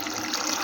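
Water poured over dry fusilli pasta to soak before pressure cooking, a steady continuous gush heard alone and close throughout.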